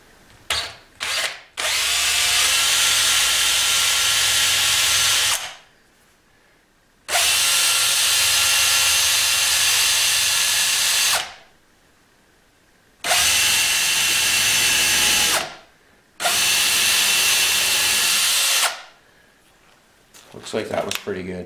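Power drill boring holes into an electric guitar body for the control layout, in four long, steady, loud whirring runs separated by quiet gaps, with brief handling clicks at the start and end.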